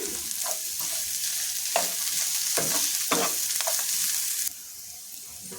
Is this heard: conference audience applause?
no